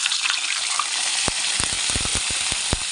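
Milkfish (bangus) fries in hot oil with a loud, continuous sizzle, joined by sharp crackles and pops that cluster in the second half.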